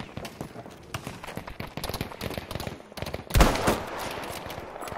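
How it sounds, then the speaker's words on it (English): Rapid gunfire in a Battlefield V Firestorm match crackles through the scene as a quick, dense string of shots, swelling into a louder burst near the end; a player's voice can be heard faintly. "Shots."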